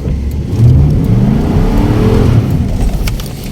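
A car accelerates hard during reckless driving. The engine note rises steadily, heard from close by inside the vehicle with road whir underneath and no voices.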